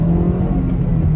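Honda City i-VTEC third-generation car engine pulling in first gear over a speed bump, a steady low droning hum with a faint rev, close and continuous throughout.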